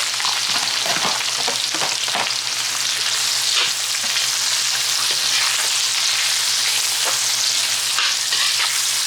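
Onions frying in a hot pan during Filipino home cooking, a steady loud sizzle filling the whole stretch with occasional stirring scrapes and crackles, no voices.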